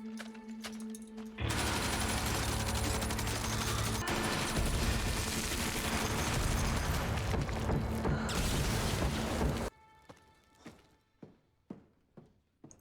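Gunfire from a television drama, heard as a long, dense burst of loud, sustained noise that stops abruptly, followed by several separate sharp bangs fading out.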